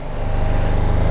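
A BMW F450 GS motorcycle engine thrums with a rapid, pulsing mid-low beat, loud and close, as the bike slows under hard emergency braking.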